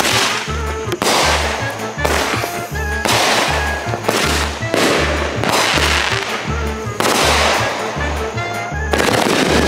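A 63-shot firework cake going off outdoors, firing a rapid, continuous barrage of loud bangs and crackles in steady bursts, close and dense throughout.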